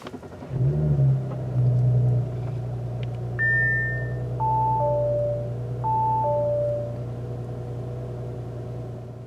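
A 2020 Audi S4 Premium Plus starts at the push of a button: the starter catches and the engine fires with a brief rev, then settles into a steady low idle, accompanied by a few short electronic chimes.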